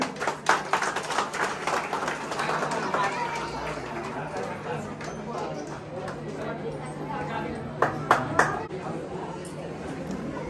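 An audience at a Sai Baba temple anniversary function in a housing society claps steadily, a dense, moderately loud patter with a few sharper claps standing out, blended with crowd chatter.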